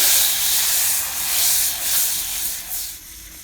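Butter melts over low heat in a pan for garlic cheese toast, giving a loud, close, continuous hissing sizzle that swells and eases slightly before fading near the end.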